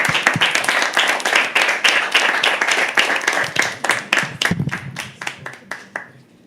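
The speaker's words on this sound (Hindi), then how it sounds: "एक बार जोरदार तालियों से स्वागत करो अर्श का।" An open-mic poetry audience claps loudly to welcome the poet Arsh, a dense burst of many hands that stays steady and then thins out toward the end.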